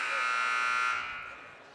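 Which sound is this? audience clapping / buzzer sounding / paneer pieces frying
buzzer sounding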